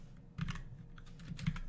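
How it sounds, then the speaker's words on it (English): Typing on a computer keyboard, a short run of close, light key clicks with two firmer strokes, no voices. "I'm just going to type in something tutorial"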